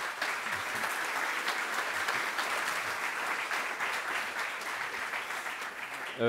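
Applause from the audience at a conference on new office buildings, a broad, even wash of many hands clapping that holds steady throughout and thins slightly near the end.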